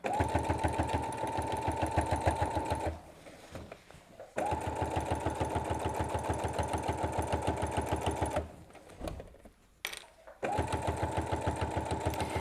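A domestic sewing machine stitches through the layers of a lap quilt with a steady, fast mechanical chatter. It runs in two long bursts, briefly pausing between them and then starting up again near the end.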